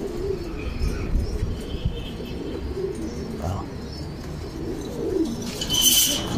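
Pigeons coo in a loft kept for breeding, soft low repeated cooing throughout, with a brief flutter or chirp near the end and no talk.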